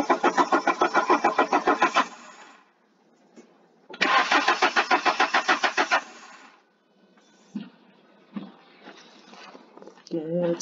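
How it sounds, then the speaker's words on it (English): Car engine cranking in two long bursts of rapid, even starter pulses, each about two seconds, separated by a pause; quieter sounds and brief voices follow near the end. "let's crank it again."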